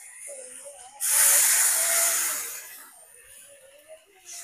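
Ginger paste and dried red chilli paste sizzle loudly in a hot pan as water is poured in, a sudden bright hiss that swells, holds for about a second, then eases to a softer simmering crackle.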